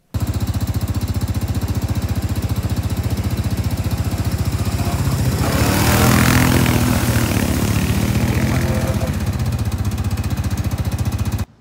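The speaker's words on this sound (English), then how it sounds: "The video you're about to watch is my cousin on a four-wheeler going through a big puddle." A four-wheeler ATV runs at a steady engine drone and then churns through a big puddle. Around the midpoint a louder, splashing rush swells and then settles back into the constant engine noise.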